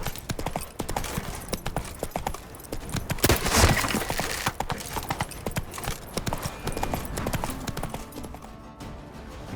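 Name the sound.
horse Roach galloping, hooves clip-clopping, from video game The Witcher 3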